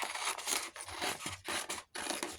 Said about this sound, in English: I'm just going to cut this out roughly.